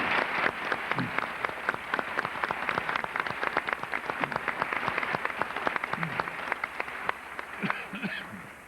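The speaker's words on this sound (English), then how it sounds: "Please join me now in a round of applause and as an expression of our appreciation for their good labors" Audience applause fills a convocation hall after a call to thank people for their work, a dense, steady wash of many hands clapping throughout, with a few louder individual claps standing out.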